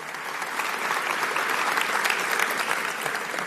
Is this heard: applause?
yes